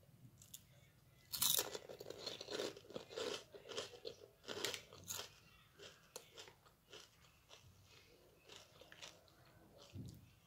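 Chipsy Plays potato chips bitten and chewed close to the mic, sharp crunches followed by a steady run of crackly chewing bursts with no talking.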